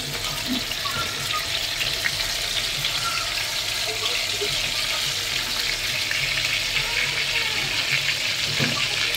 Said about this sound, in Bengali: আর এই যে এখন মাছগুলো ভেজে নেব।